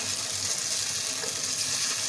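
Kashmiri chicken cooking in yogurt on high heat as its liquid dries off, giving a steady, fairly loud broadband sizzle that runs unbroken throughout with no talking.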